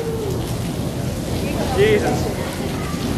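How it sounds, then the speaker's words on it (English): Steady, loud rain hisses down during a thunderstorm, a dense wash of sound lasting throughout, with a brief swelling rumble partway and a man's exclamation over it. "Yeah, it's raining."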